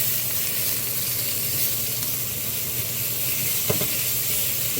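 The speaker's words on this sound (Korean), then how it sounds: "약불에다가 노릇노릇하게 볶아줄 겁니다" Kimchi stew ingredients stir-frying in a pan over low heat, giving a continuous close sizzle with a brief knock of a utensil near the end.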